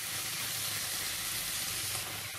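Mint leaves and chopped tomatoes frying in a pan over a medium flame give a steady, close sizzle that holds evenly throughout, with a faint low hum underneath and no voices.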